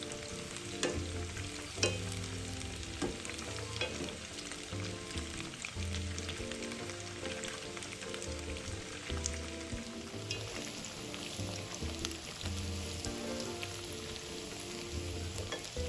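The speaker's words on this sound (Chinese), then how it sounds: "再将油炸后的鸡肉块一口气倒入，复炸个20秒左右，这样鸡块会更脆" Already fried chicken pieces for Szechuan spicy chicken dropped back into hot oil for a quick second frying, giving a dense, loud, continuous sizzle with stirring scrapes and no voices.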